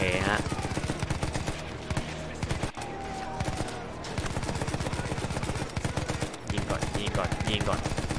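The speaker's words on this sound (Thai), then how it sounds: "ยิงก่อนที่ถือ MG42 อยู่ฮะปืนกลหนักอยู่ฮะ" Rapid, continuous MG42 heavy machine gun fire in the video game Battlefield 1, a dense, loud stream of close shots with only brief gaps.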